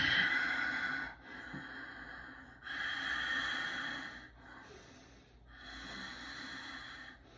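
Ujjayi yoga breathing during a standing balance practice: slow, audible throat-constricted breaths, close and soft, with three long rushing breath cycles separated by brief pauses.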